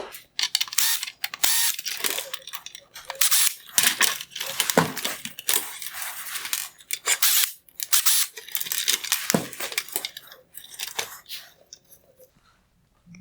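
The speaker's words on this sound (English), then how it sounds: "Next, I'm going to remove the Phillips head screws holding this LED unit in place." Phillips head screws being backed out of the LED unit inside a 2016-2018 Kia Sorento halogen headlight, with close, irregular clicks, scrapes and plastic rattles of the screwdriver and housing spread throughout.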